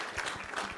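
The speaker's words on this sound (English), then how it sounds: "let's get one more round of applause for everybody involved" A weigh-in crowd at the Creator Clash boxing event in Tampa breaks into brief, dense clapping, a steady patter lasting under a second at moderate volume.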